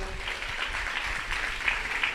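A church congregation claps together in steady, dense applause at moderate volume for a couple of seconds, with a preacher's voice briefly present.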